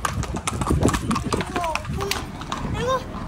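Horses walking on an outing, hooves clip-clopping in a steady, close rhythm while people talk over them and short whistles sound near the end.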